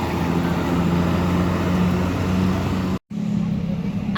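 A Jakbus 2 Plus SHD bus with Adiputro coachwork at a bus terminal, its engine rumbling loudly and steadily close by, broken by a brief cut, with a constant low drone and hum continuing after.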